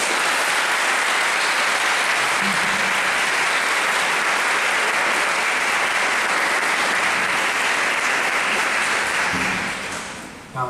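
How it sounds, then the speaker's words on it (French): Sustained, dense applause from a large audience welcoming a speaker at a French engineering talk, steady and loud throughout before tapering off at the very end. "je vous prie d'accueillir et d'applaudir bien fort Monsieur Ivan Chapman."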